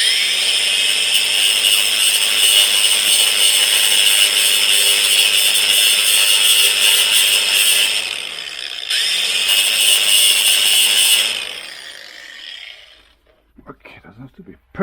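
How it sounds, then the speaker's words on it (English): Cutter grinder slicing into a plastic BMW M6/M5 E63 throttle body part, a loud, close high-pitched grinding whine that runs steadily, briefly drops out and resumes, then spins down into quiet handling noises. "I use just this cutter grinder, whatever it is."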